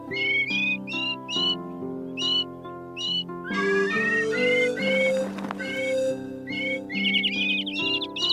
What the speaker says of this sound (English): Harold and the birds had created a melody